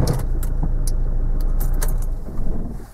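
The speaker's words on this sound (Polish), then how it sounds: "I teraz odpalam samochód na wbitym biegu." A manual car is started with first gear engaged and no clutch, giving a steady low engine rumble with light key jingling near the ignition, then a short rise before it fades.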